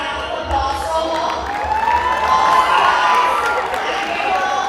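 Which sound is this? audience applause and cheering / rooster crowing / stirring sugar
audience applause and cheering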